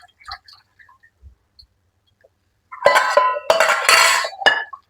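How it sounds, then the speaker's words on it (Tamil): Milk is poured into curd in a kitchen vessel and mixed: a few faint taps, then splashing pouring and clinking stirring against the container, close and fairly loud. "பால் எடுத்து தயிரில் ஊற்றிக்கிறேன்"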